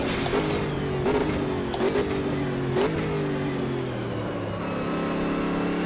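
A high-downforce race car in Automobilista 2 revs hard through its gears. Loud engine pitch climbs and drops with several sharp shift cuts, and no one talks.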